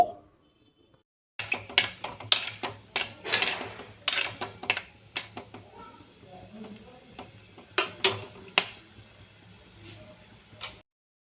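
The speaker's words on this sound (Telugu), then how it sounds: "ఆయిల్ హీట్ ఎక్కిన తర్వాత కొంచెం చెక్క అలాగే ఐదు లవంగాలు రెండు అనాస పువ్వులు ఇవన్నీ కూడా వేసుకుని కొంచెం వేగనిద్దామండి" Cinnamon, five cloves and two star anise crackle and sizzle in hot oil for a chicken curry, with a steady fry under repeated sharp stirring clinks of a spoon against the pan, close and moderately loud after a brief quiet start.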